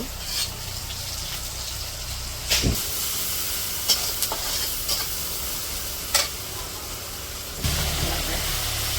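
Continuous loud sizzling of onion, garlic and green chillies frying in oil, with a few sharp clanks of a utensil stirring against the pan; no speech.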